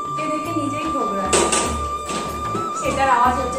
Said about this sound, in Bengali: এটা হচ্ছে একটা খ্যারখেরি পাখি আছে এসে জানলার কাজটাকে ঠোকরায়